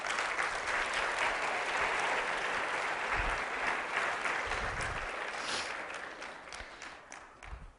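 A church congregation claps in praise during a Spanish-language sermon, a dense, sustained burst of applause that gradually tapers off near the end.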